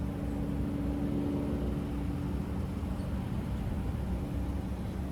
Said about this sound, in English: I'm backing out about 10 feet for my side swipe shot.